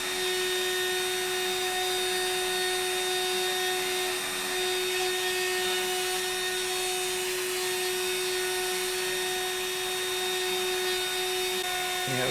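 A 20,000 RPM CNC router spindle motor cuts wood at a shallow depth and slow plunge, a steady high-pitched whine with a strong constant tone holding loud and unbroken throughout.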